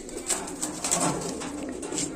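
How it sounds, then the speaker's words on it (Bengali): Domestic pigeons kept for sale at a home coo softly and steadily in a short burst of low, rolling calls, with faint bird noise around and no talking. "শুধু পায়রাটা দেখুন"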